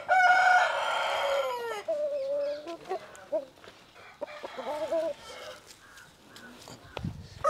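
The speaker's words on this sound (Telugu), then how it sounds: "ఇది పండక్కి సెలెక్షన్ కోడి పుంజు సార్ ఇది పట్టుకోండి దాన్ని" An Errabotla Seethuva fighting rooster crows loudly at close range, then gives a run of clucks under people talking nearby.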